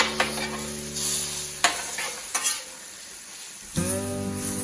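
Food stir-frying on a Blackstone flat-top griddle, steady close sizzle with a few scraping spatula hits and a louder flare of sizzle near the end, no talking.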